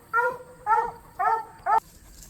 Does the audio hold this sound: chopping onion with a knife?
no